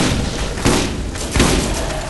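Shotgun blasts in Borderlands give two loud, close, thumping booms less than a second apart, set within dense game noise.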